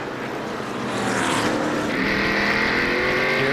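A NASCAR stock car engine revs up under caution at the Subway 500, the roar swelling after about a second into a loud, sustained whine as the car picks up speed, with no talk over it.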